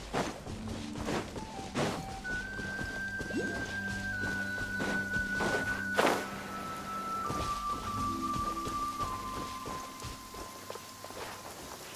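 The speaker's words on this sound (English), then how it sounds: "Taking a stroll in the middle of a downpour certainly rouses the spirit." A downpour hisses steadily through a video game scene, a soft, even wash of rain heard beneath a gentle melodic tune, with faint footstep-like taps scattered through it.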